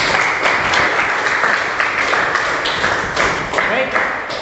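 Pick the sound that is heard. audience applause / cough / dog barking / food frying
audience applause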